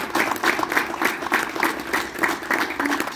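An audience at the inauguration of a shelter for separated fathers breaks into applause, with many hands clapping in a lively, fairly loud burst that carries on steadily with small rhythmic swells.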